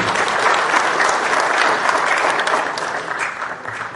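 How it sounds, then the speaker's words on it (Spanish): An audience at a conference panel bursts into sustained applause, a thick, even wash of many hands clapping at once, loud and continuous before tapering slightly near the end. "Para todos, por favor, fuertes votos de aplauso"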